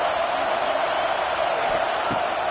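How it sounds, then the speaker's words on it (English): Home crowd at a Canes vs LSU football game, a steady dense roar of many voices filling the stadium with a brief swell near the end, continuous and fairly loud. "Man, this crowd really affecting the football game."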